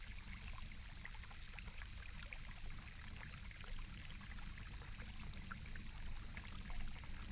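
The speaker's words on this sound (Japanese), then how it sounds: "聞こえるのは風の音と川のせせらぎくらいでしょうか" At night by a mountain inn on a misty evening, a babbling river and wind make a faint, steady rushing wash with a thin constant high tone above it, quiet and unbroken, with no voices.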